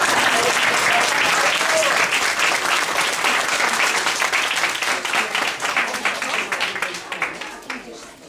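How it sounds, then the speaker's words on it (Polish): Loud, sustained applause from an audience of parents after a children's kindergarten performance, dense clapping that fades gradually toward the end. "duże brawa, co?"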